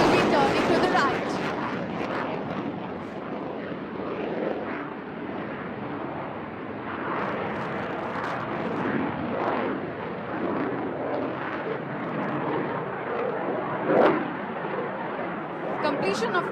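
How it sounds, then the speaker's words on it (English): An Alpha jet flying a display at the Aero India 2025 air show in Bengaluru, a sustained distant roar beneath a loud public-address commentator talking throughout. "That is the mighty Alpha coming up and will be turning to the right."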